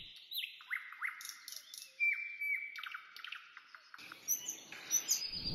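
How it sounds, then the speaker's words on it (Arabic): Small birds chirp and tweet at a resort with a swimming pool, in quick, high, bright calls and short squawks. They come in bursts with brief pauses, fairly close but soft, and no one speaks. "ابتدى بصوت العصافير وهي تغرد"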